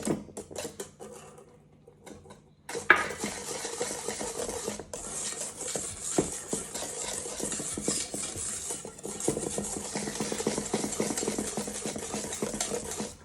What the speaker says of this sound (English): Really make sure you whisk this together very well